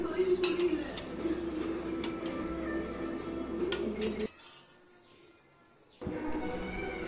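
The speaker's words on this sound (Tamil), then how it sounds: "சேர்த்துட்டு நல்லா கலந்து விட்டுடலாம்" Sugar stirred into a warming mixture in a pot for idiyappam, with steady scraping and clinking of a spoon against the metal pot under a loud kitchen hum that briefly drops away near the end.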